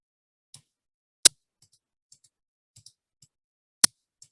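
A cutting machine slices white vinyl sheet, giving sparse, quiet clicks and small scratchy ticks with two sharp, louder snaps standing out in an otherwise silent background.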